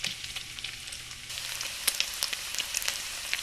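Bacon sizzles steadily in a hot pan, a dense crackling hiss with sharp little pops, close and fairly quiet with no talking.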